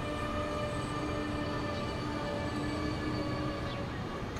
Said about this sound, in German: Und links rauscht der Fernverkehr ohne Zwischenhalt durch.